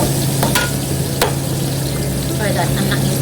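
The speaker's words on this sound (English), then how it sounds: "be sauteing our onion and garlic along with our ginger as well" Onion, garlic and ginger sauté in hot oil with a continuous close sizzle, punctuated by a few quick stirring scrapes and clinks of a utensil against the pan.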